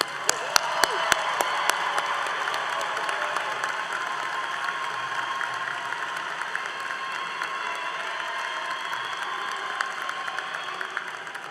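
Sustained applause from a large commencement audience in an arena, dense steady clapping with a few sharp individual claps at the start, filling the space without pause.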